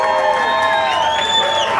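Comedy-roast audience at Sobro Garden cheering and whooping for Jimmy Rodriguez's birthday, a steady wash of crowd voices and shouts lasting a couple of seconds, loud and close throughout.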